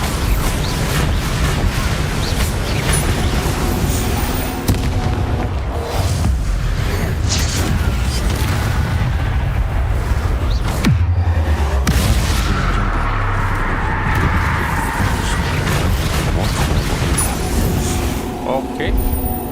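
A Bombarda spell from the Hogwarts Legacy video game detonates in a booming explosion amid steady loud game combat noise, with a heavy low-frequency thud midway and a voice talking over the action.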